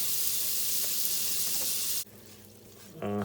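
Four tablespoons of butter sizzle and fry in a pan over lowered heat for eggs over easy Benedict style, a steady close hiss that cuts off abruptly partway through, then briefly returns with a clattering burst.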